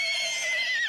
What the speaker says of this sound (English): Like this old horse your mom sold me.